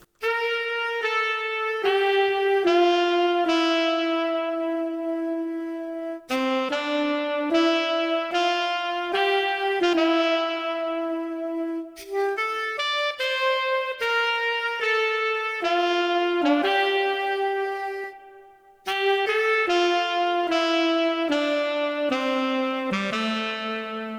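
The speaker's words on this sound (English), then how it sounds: "I actually started with two saxophones, both playing the melody," Two sampled saxophones from DVS Saxophone and Sax Lab play a melody together in an orchestral R&B sample: smooth, legato phrases with brief pauses between them, close and full, without any talking.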